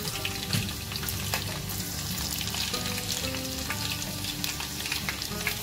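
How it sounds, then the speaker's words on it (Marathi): Whole spices, garlic and curry leaves sizzle in hot oil in a home kitchen, a loud continuous frying hiss with stirring clatter and a faint sound of running water underneath. "आपलं तेल गरम झालेलं आहे आणि त्याच्यामध्ये मी टाकते खडा मसाला"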